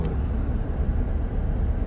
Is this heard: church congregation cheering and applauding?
no